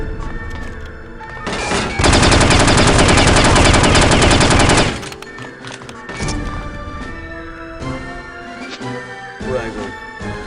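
Gunfire in No One Lives Forever: a loud, sustained automatic burst of about three seconds dominates, then fades into scattered quieter game sounds with a voice talking over them.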